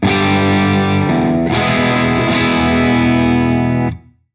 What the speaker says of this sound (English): I'm using the clean channel that is pushed. There's a little bit of grunt on my amp sound.